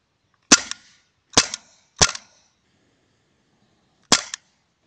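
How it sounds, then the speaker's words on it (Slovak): Four sharp, loud shots from a Sig Sauer P226 CO2 air pistol running on a half-empty gas cartridge: three in quick succession, then a pause and a fourth, each a crisp pop with a short tail. "Môžeme si pozrieť pár výstrelov tak na nečisto."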